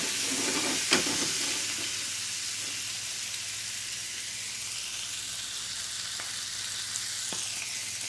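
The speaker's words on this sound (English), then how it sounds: "we'll let these continue to cook here, reduce down a little bit." Italian sausage and vinegar peppers sizzle steadily in a pan as the liquid reduces, a continuous close bright hiss with a few brief clicks of a utensil and no talking.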